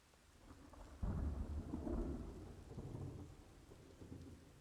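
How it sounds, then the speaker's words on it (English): Rain and thunder in the video game Ring of Elysium: a sudden loud rumble of thunder breaks in after a second over steady rainfall, then a long rolling decay with further low grumbles, no voices. "Just as the rain started too and I couldn't hear him."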